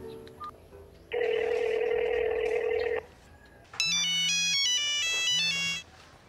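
A phone ringtone plays loud and clear in two bursts: first a steady, buzzing tone, then a bright melodic ring of stepped notes, with no one speaking over it.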